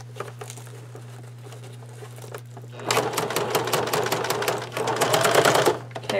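A sewing machine stitches around a handmade fabric bag, its fast needle rattle starting after a quiet stretch with a low steady hum beneath and running loud and close to the end.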